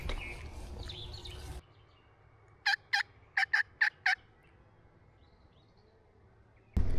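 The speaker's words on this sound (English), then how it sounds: "We're just going to walk this line and see if we can get him to gobble." Wild turkey gobbling in a series of about six sharp, closely spaced bursts at moderate distance, heard alone over quiet background during a turkey hunt.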